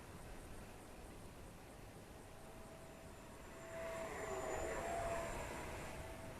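An Arrows Viper 50mm EDF RC jet in flight, its ducted fan a thin whine heard from a distance that swells a little louder partway through.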